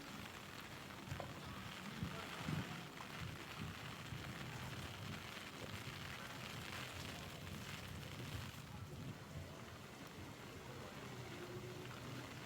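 Heavy monsoon rain during flooding in Gujarat, India, a steady dense broadband wash of downpour that continues without break, with a faint voice or commotion mixed underneath.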